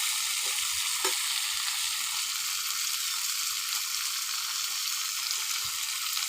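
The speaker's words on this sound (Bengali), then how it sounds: "আলুটা দিয়ে আমি একটু ভালো করে ভেজে নেব।" Potatoes frying in a pan for a Bengali dish, a continuous hissing sizzle close up with a few soft scraping stirs, steady in level throughout.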